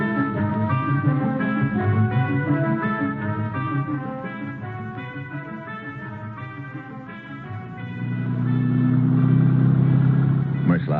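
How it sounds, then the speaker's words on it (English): A car engine in a 1950s radio drama rumbles and hums under background music, its low drone rising louder toward the end as the auto pulls away, heard in a mid-distance studio sound effect. "Merschlag and I head out in his auto."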